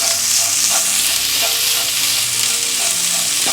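Cooked green gram and chopped leaves tossed in a pan for Kerala thoran, a continuous close hiss of frying with a few soft spatula scrapes and taps, no voices.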